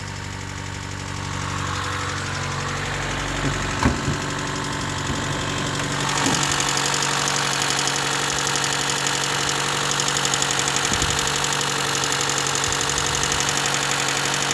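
A Daewoo Lanos engine running on LPG idles steadily, a low rhythmic rumble with a brief knock or thump partway through, then settles into an even, slightly louder idle.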